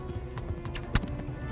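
Horse hooves gallop in the medieval role-playing game Kingdom Come: Deliverance, a fast, steady clip-clop close by with a brief louder thud near the end.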